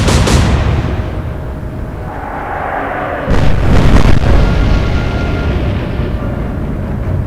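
Naval guns fire in the Atlantic Fleet naval warfare game, with a loud, deep boom rolling into a long rumble and then a second heavy blast that fades slowly.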